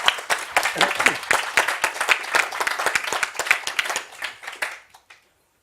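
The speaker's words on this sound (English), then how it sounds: "Give you an applause for that." A burst of clapping from a small audience, brisk and close, thinning out and stopping abruptly near the end.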